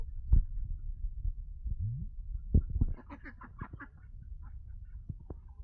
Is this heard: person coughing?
no